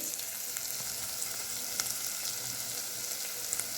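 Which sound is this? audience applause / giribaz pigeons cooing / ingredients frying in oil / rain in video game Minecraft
ingredients frying in oil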